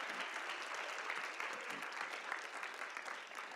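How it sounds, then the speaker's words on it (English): High school assembly audience applauding at a drive-responsibly event, a steady crowd of clapping hands sustained evenly and heard at moderate distance, tapering slightly at the end. "How about we give all these people a round of applause"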